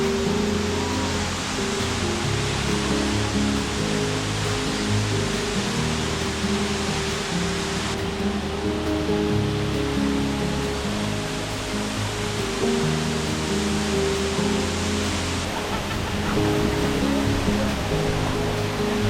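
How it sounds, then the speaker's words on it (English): A 256-foot waterfall at Fall Creek Falls, Tennessee roars steadily as a loud, dense, unbroken rush of falling water, close and constant throughout with no voices. "The water cascading down is 256 feet."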